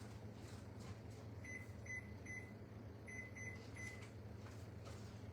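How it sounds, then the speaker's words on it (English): A kitchen timer is set for a casserole, giving several short, high electronic beeps in quick pairs and triplets over a steady low appliance hum. "I'm gonna set my timer."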